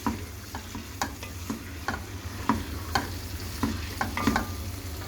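Vegetables for Hakka noodles fry in a pan, a soft continuous sizzle broken by regular scraping and tapping strokes of a spatula stirring them, close and fairly quiet with no voices.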